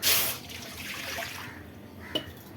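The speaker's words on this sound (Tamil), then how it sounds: "இப்போ 1 கப்பு ஜவ்வரிசி எடுத்திங்கன்னா அதுக்கு 7 கப்பு தண்ணி ஊற்றிக்கணும்." Water poured into a heavy-bottomed pot for cooking sabudana, a short splashing pour that fades to a quieter trickle, ending with a small clink; no voices.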